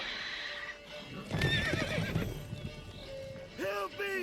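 Horse neighing in The Witcher 3 video game, a whinny with hoof clip-clop, heard mid-clip among game sounds, with a final short neigh near the end while a voice speaks.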